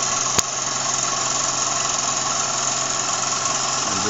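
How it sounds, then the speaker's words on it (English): A small steam engine runs to charge a cell phone, a steady, even mechanical drone with a single sharp click near the start, continuous and close. "I'm going to switch to steam power for my cell phone"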